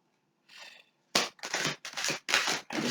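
A soft brushing riffle, then five sharp, bright bursts of tarot cards being shuffled in quick succession, close and loud with brief gaps between.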